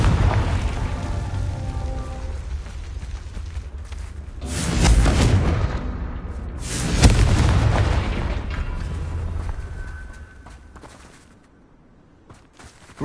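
In the Hogwarts Legacy video game, a Confringo fire spell lets off two heavy booming blasts over a rumbling low background, each swelling and then slowly fading, loud and close, before the sound thins out near the end.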